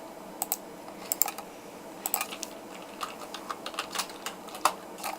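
Rapid, irregular clicks of typing on a computer keyboard, close and fairly crisp, arriving in short bursts with brief pauses between them and no talking.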